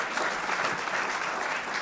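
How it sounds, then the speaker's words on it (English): An audience claps through a round of applause at a Washington, D.C. mayoral accountability report event, dense and even for the whole stretch with no speech on top. "you give a round of applause for that."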